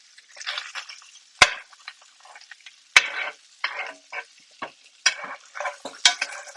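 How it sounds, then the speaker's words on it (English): Short ribs are butter basted in a hot cast iron pan, with bursts of sizzling and spattering and sharp metallic clinks of a spoon against the pan, close and intermittent, with no voices. "And then we're going to do some butter basting"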